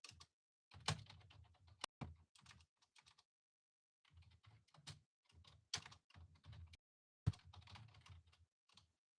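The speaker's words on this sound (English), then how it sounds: "I'll type in the chat." Keystrokes clatter on a computer keyboard in irregular bursts of quick taps with short pauses between, close and fairly quiet, with no one speaking.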